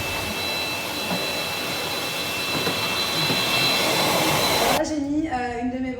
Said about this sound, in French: Alors là, j'aspire le sol. Du coup, j'ai pris l'embout spécial.